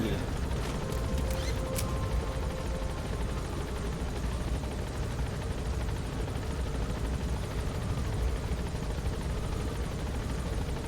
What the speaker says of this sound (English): This also helps improving your helicopter speed